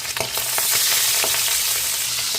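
A salmon belly seasoned with salt and pepper fries in a well-heated pan, sizzling loudly and steadily, with soft stirring scrapes now and then.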